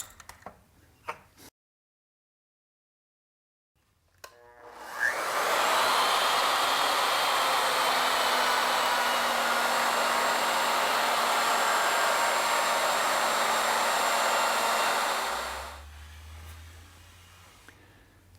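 A wood router spins up and runs a bit through a wooden spindle, a loud, even motor whine holding steady for about ten seconds before winding down, with faint clicks before it starts.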